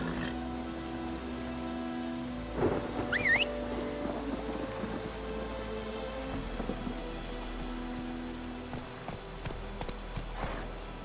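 Steady rain hisses throughout with a low rumble of thunder underneath, plus a few clopping hoofbeats and a brief tonal chirp midway, in the video game The Witcher 3: Wild Hunt.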